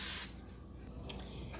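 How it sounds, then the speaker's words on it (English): A short burst of cooking spray hissing into a pan at the start, then quiet room tone with a faint tap. "And I'm gonna spray it with some cooking spray."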